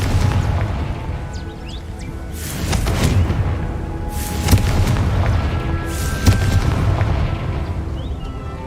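In the video game Hogwarts Legacy, a Confringo fire spell sets off a series of deep booming explosions over a rumbling background, loud and close, with bursts arriving several seconds apart.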